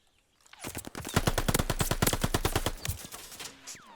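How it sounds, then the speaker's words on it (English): A sustained burst of rapid automatic assault rifle fire in Call of Duty: Vanguard, loud and punchy with a deep thud on each shot, followed by fading echo. "you can definitely feel a thud when you use an assault rifle"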